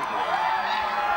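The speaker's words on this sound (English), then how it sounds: "Oh, listen to that crowd." A crowd gathered in Idaho Falls for the 2017 total solar eclipse cheers and whoops, a steady, distant roar of many voices.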